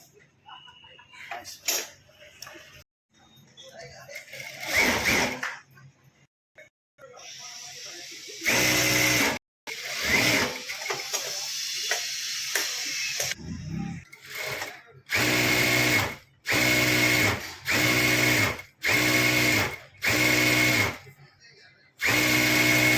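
A sewing machine in a tailoring workshop whirs in repeated loud bursts, starting and stopping in a steady rhythm, with brief talk and workshop clatter early on.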